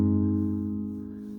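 A guitar chord with one string in an alternate tuning rings out sustained and low, a single strum decaying smoothly with steady harmonic overtones.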